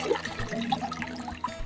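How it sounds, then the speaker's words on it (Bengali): Leafy greens, a village vegetable, being rinsed by hand in a basin of water, with soft splashing, sloshing and trickling close by, no voices. "এই যে দেখতে পাচ্ছ আমি ভালো মতো ধুয়ে নিচ্ছি।"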